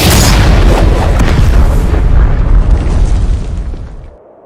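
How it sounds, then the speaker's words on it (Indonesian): A rock cliff blasting apart, a loud, deep rumbling explosion that roars for several seconds before fading out. "tebing itu meledak dan terbelah"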